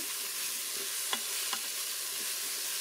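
Soft, steady sizzle of onion and three leeks browning in a multicooker for veal blanquette, with a couple of faint stirring clicks over the even frying hiss.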